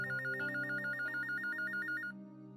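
An electronic telephone ringtone trills in a fast, repeating warble over a steady musical background, then cuts off shortly before the end.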